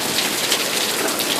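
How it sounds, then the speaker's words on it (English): Heavy rain pours in a loud, dense, continuous hiss of water pounding on surfaces nearby, steady throughout with no voices. "Oh my god, rarely rain here."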